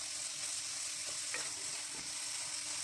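Ground beef frying in a pan, a steady soft sizzle and hiss with a few light scrapes of stirring, faint and continuous.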